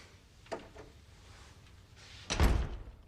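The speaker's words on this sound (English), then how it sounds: "Close the door." A door being closed in an office: a faint click early on, then a single louder thump as it shuts, alone in a quiet room.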